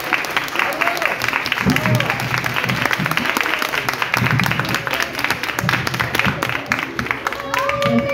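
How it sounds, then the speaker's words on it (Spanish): Audience applause at a book presentation at a book fair, a loud, sustained burst of many hands clapping that runs throughout, with scattered crowd voices mixed in. "Démosle un fuerte aplauso"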